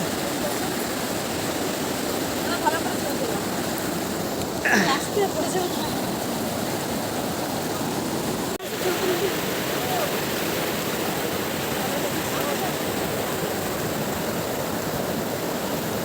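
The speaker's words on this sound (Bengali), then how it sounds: "ভিডিওটা ধরো আমাকে দেখাও কি দারুণ স্রোত" Strong current of flowing water at Dudhia, a steady broadband rush like a stream or small waterfall running throughout, close and loud, with a brief sharp knock partway through.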